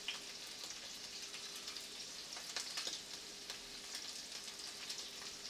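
Garlic sizzles in a pan with sautéed prawns, a faint, steady crackling hiss with scattered small pops and no voices.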